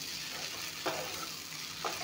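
Samosa filling of mixed vegetables, peas, peanuts and potato sizzling steadily in a hot pan, with two brief spoon strokes stirring it, close and fairly quiet.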